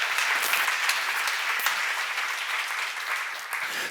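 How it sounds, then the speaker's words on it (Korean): A church seminar audience claps steadily for about four seconds: dense, even applause that fills the room at a constant level, with no clear voices over it. "박수."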